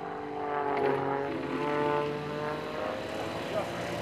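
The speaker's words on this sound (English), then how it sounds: "Watch the aircraft now as it slows down." Extra 230 aerobatic plane at an air display, its engine and propeller droning as it slows, a sustained buzzing hum that swells and eases slightly, with a voice talking over it.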